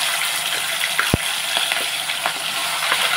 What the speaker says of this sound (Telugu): ఇప్పుడు మనం స్టవ్ పెట్టుకుని ఆయిల్ పెట్టానండి